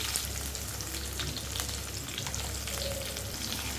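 Onions, green chillies and curry leaves fry with salt in a pan for an eggplant and drumstick curry, a steady close-up sizzle with faint crackles and no voices.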